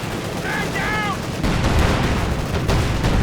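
Anti-tank guns fire in a Company of Heroes 2 battle, heavy booming shots over a dense rumbling game soundscape, with short whistling tones early on.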